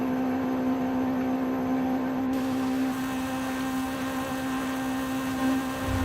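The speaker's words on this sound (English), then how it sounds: "the intake on this thing sounds like it has a turbo" In Forza Horizon 5, a Honda car's engine holds a steady, loud intake drone at high revs. The tone stays constant from start to finish, and no one speaks.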